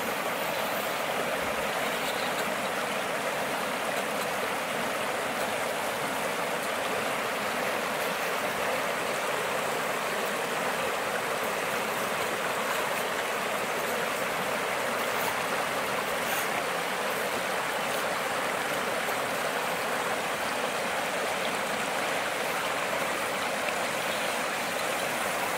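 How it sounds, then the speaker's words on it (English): An RC rock crawler with a waterproof motor runs through shallow creek water outdoors, its churning masked by a steady, loud rush of flowing stream water that fills the whole stretch. "I'll keep going through some water, though, for everybody, but I'm not crossing the creek or the river."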